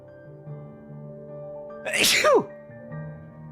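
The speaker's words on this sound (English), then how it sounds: "Oh, and I have to sneeze." A single loud sneeze bursts out close up, with a short inhaled lead-in, against a quiet background with a faint steady hum.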